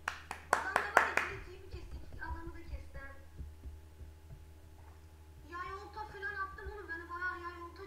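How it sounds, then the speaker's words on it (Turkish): A quick burst of about five sharp hand claps from one person during a Minecraft Survival Games session, followed by casual talking and quieter background sounds. "Aferin, alkış."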